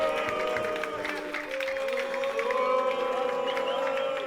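Crowd noise at a live wrestling show in a Budapest gym: a steady wash of cheering and applause with scattered shouts, heard from within the audience under a commentator's voice.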